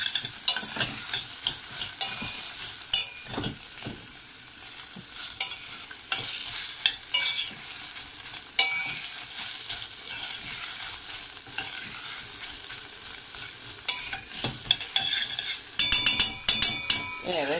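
Food being sautéed with tomato paste in a home kitchen pan, giving a steady sizzle with stirring scrapes and occasional utensil clinks against the pan throughout.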